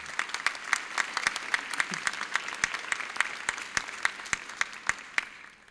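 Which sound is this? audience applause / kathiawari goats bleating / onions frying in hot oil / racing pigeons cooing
audience applause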